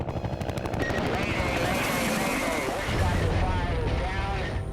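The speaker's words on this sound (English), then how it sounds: "They're taking heavy fire from all over the LZ." Dense, continuous rapid gunfire at a Vietnam War helicopter landing zone, with heavy rumbling engine noise underneath, loud and chaotic throughout.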